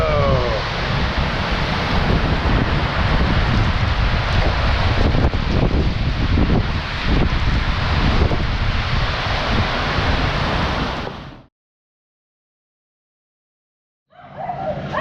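Loud, roaring gusts of strong wind in Nepal buffet the microphone for several seconds, then cut to silence before briefly returning.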